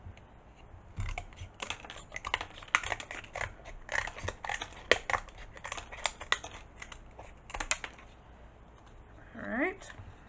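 Close snipping of scissors cutting down a line, a quick irregular run of sharp clicks, fairly quiet, with a brief rustle near the end.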